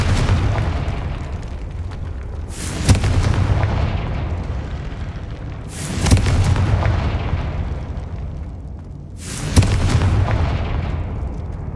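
Confringo spell explosions in the video game Hogwarts Legacy, three loud booming blasts spaced a few seconds apart, each with a sharp crack and a rumbling tail over a steady low game background.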